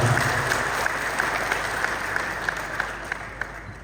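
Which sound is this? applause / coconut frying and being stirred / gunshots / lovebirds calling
applause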